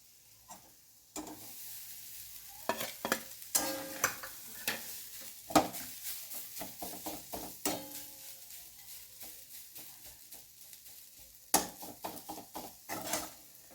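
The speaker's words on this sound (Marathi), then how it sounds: "आता आपण याच्यामध्ये राईस टाकून घेऊया" Vegetable fried rice being stir-fried in a pan for Schezwan rice, with repeated scraping and stirring clatter over a steady sizzle, close and fairly loud, with no talking.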